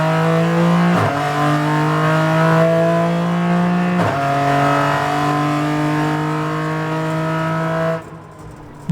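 A loud BMW M4 GT4 race car engine roars close by on a track, pitch climbing steadily through gears with two sharp shifts, then cutting off abruptly.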